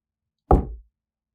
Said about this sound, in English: The knocks were clear, deliberate.